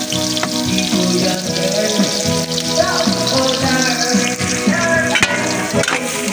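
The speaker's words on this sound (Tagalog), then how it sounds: "kikisa muna tayo ng luya, sibuyas, bawang" Ginger, onion and garlic sautéing in a pan, a steady loud sizzle with stirring and scraping running throughout, no voices over it.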